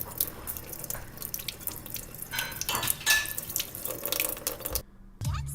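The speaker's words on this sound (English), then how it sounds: "So always when you're making food, just wash your hands." Tap water running into a sink while hands and strawberries are washed, a steady close splashing stream with drips and light clinks of dishes, ending with the tap shut off.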